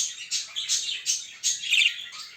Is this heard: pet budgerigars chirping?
yes